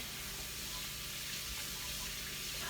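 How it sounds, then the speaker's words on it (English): Pork shoulder is rinsed under a running tap, a steady close rush of water splashing without break. "Now I'm going to continue rinsing."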